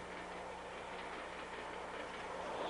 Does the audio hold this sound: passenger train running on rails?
yes